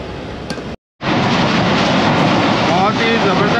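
A Tezgam express train races at speed between Khanewal and Multan in rainy weather, with a loud, steady rumble and rail clatter filling the whole stretch apart from a brief gap of silence early on.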